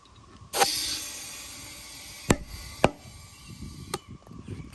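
Tire bead seating onto a wheel rim during a home tire mount, heard as two sharp, loud pops about half a second apart over a steady hiss of air, after an earlier burst of rushing air and a later smaller pop.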